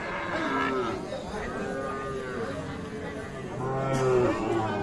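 Several calves lowing and mooing at a cattle market, drawn-out calls overlapping amid background chatter and crowd noise.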